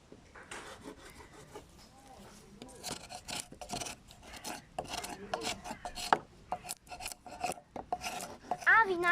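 A knife scrapes a surface in short, uneven rasping strokes, close and moderately loud, growing busier toward the end with a few sharp clicks.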